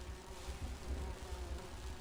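Bees buzz in the Grim Fandango video game as a steady, close, low drone with slight swells in loudness and no speech over it.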